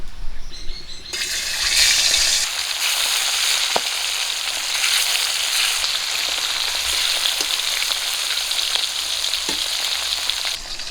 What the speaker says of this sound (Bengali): তেল গরম হয়ে গেছে মাছ দিয়ে দেবো